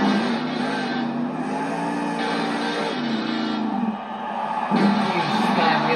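The Gravedigger monster truck drives around an arena, its engine a loud, sustained roar that rises and falls in pitch with throttle, while an announcer talks over it against a crowd background.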